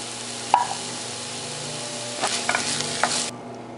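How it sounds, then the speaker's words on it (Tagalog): A spoon stirs cream of mushroom into a fish sauce in a pan, with a steady low sizzle underneath and a few clinking scrapes against the pan in the second half. "Yan, at haluin lang po natin."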